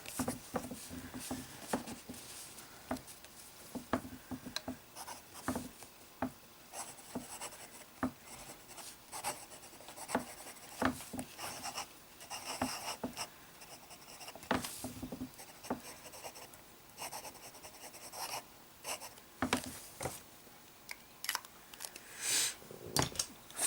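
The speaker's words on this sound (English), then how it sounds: "Let us start with a bit of fine writing." Fountain pen doing fine writing on copier paper with J. Herbin 1670 Bleu Océan ink: soft, close scratchy strokes in irregular short bursts with brief pauses between words, quiet and alone without any voices.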